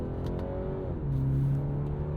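A 2022 BMW 330i engine pulls up through the revs, a smooth rising drone with a short shift-like dip before the pitch settles and climbs again, heard from inside the car.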